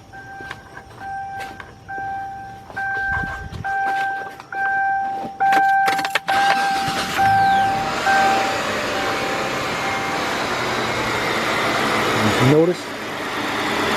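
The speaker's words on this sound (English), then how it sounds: "Let's go over here and start this car up." A Hyundai XG350L with a rough-running fault, showing codes P0350, P0300 and P0302, cranks and starts after a door chime sounds, then settles into a steady engine idle, with someone talking over parts of it.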